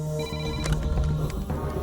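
A telephone rings close by, a trilling electronic ring repeating over a low steady hum.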